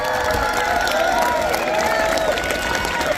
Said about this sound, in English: give a big round of applause to all the coaches